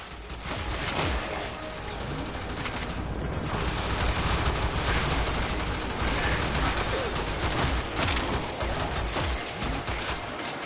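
Heavy gunner enemies in the video game Warframe firing their weapons, a dense continuous barrage of rapid gunfire and impacts that stays loud throughout with no pauses.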